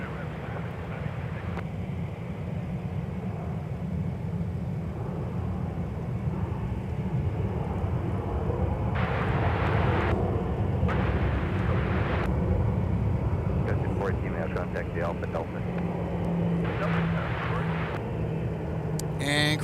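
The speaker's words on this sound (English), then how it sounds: "arriving north side on 12 left, Southwest 1141 from Chicago Midway" A Southwest airliner arriving from Chicago Midway on runway 12 left at MSP airport, a continuous distant jet rumble with wind noise and faint radio chatter over it throughout.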